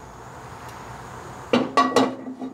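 Metal and cookware clinks in a home kitchen as oil goes into a pan for stir-fried bamboo shoots with ginger: quiet at first, then three or four sharp close knocks and clatters near the end.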